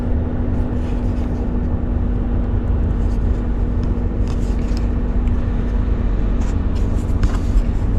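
Car interior while driving in snow in low gear: a loud, steady engine drone with a constant hum and road rumble, no voices.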